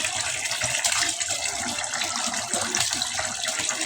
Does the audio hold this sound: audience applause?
no